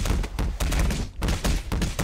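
Roblox gunfire on an army roleplay map comes as a loud, steady string of rapid shots, two bursts split by a brief pause, close and with no talking.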